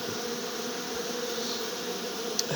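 Honey bees drone steadily and densely at close range over hive frames, some empty and some spread with candy feed, a continuous buzz that holds unchanged throughout.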